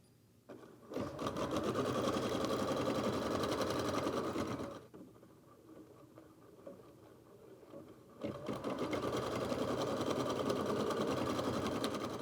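Computerized embroidery machine running a stitch sequence that sews a placement line for leaf fabric, a steady fast mechanical whir for about four seconds, a softer pause, then the whirring resumes loud and close.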